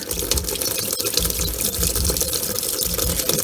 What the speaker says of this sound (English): There's the cold tap water.